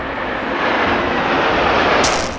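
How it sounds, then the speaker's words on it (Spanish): Loud, steady roar of Chinese and Russian military aircraft, a dense continuous engine rush that fills the whole stretch without a break. "¿Y recuerda estos aviones con los que comenzamos el reportaje?"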